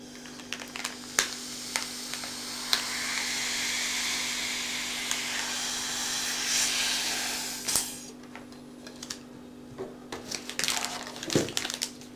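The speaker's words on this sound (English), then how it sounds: "you'll just put your mouth on the end of the straw and suck the air out" Air is sucked out of a bag of Swedish snus through a straw to vacuum-pack it, giving a sustained close hiss with crinkling plastic, then lighter rustles and handling noises.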